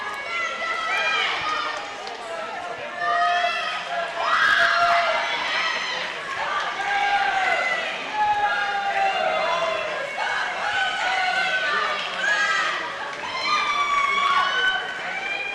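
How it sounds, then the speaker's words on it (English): Spectators cheer and shout from the sideline at a high school swim meet in Holliston in a steady, loud wash of overlapping voices and whistles throughout. "Lots of cheering from the sideline."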